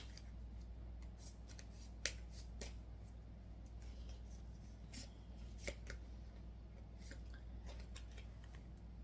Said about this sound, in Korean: 두 분을 위한 메시지 카드를 한 번 더 뽑아보도록 하겠습니다